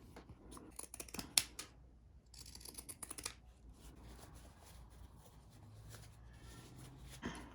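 Scissors snip small notches into fabric around the curved head of a cloth doll, faint crisp clips in quick irregular bursts against a quiet room.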